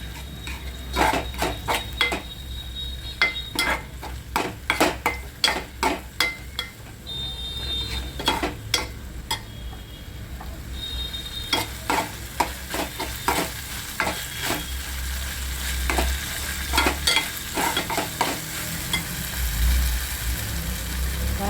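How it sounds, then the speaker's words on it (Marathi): Ginger and garlic frying in a pan with coriander and cumin, a low steady sizzle under frequent sharp clinks and scrapes of a spoon against the pan, close up with no voices. "अद्रक आणि लसूण हे पण याच्यामध्ये मिक्स करायचं आणि याला गरम करायचं"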